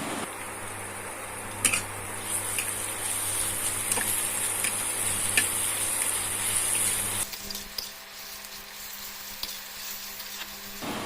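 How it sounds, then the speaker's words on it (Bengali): Ginger and garlic paste frying in a pan with light-browned onions for a goat liver chorchori: a steady close sizzle with stirring scrapes. The sizzle drops to a quieter hiss partway through. No voices. "পেঁয়াজ লাইট ব্রাউন করে ভেজে নিয়ে দিয়ে দিচ্ছি আদা বাটা আর রসুন বাটা।"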